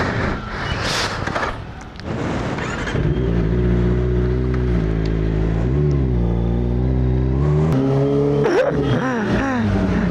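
Kawasaki ZX25R motorcycle pulling away at a Shell station, the small high-revving engine loud and close, climbing and dropping through the revs with a brief squeal near the end.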